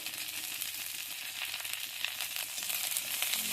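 Ginger and cumin fry in hot oil in a wok, giving a steady, close, bright sizzle with no voices.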